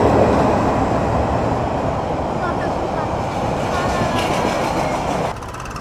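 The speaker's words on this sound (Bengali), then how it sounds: "তো অলরেডি দেখতে পাচ্ছি যে ট্রেন চলে আসছে।" A train rolls past a road railway crossing, a loud continuous rumble of wheels and carriages close by that holds steady, then drops off abruptly near the end.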